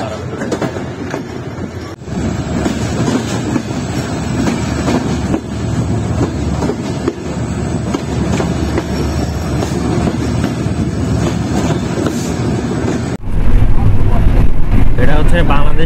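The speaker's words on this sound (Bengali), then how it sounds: "চিলাহাটি এক্সপ্রেস ঢাকার উদ্দেশ্যে যাত্রা শুরু করেছে" Chilahati Express passenger train of Bangladesh Railway running toward Dhaka, a steady loud rumble of wheels and carriage noise heard from inside throughout, with a sharp shift in tone near the end; voices are audible under the noise.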